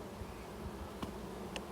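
Honey bees hum faintly inside a flow hive, a low steady drone with two brief sharp ticks partway through and no talking.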